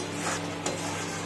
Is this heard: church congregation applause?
no